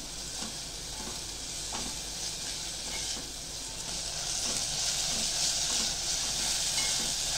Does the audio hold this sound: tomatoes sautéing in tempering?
yes